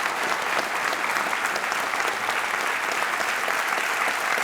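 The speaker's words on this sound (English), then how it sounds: "And can I have, please, a round of applause for Jack and for our magnificent BSL team." Audience applause at a public interview event, steady and dense clapping from a large crowd sustained throughout without a break, fairly loud and close.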